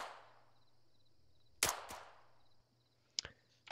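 Gunshots aimed at a team's position in a military shooter game, heard as sparse sharp cracks: a close pair of loud shots mid-clip, then a quieter pair near the end, over a faint hum and a fading whoosh at the start.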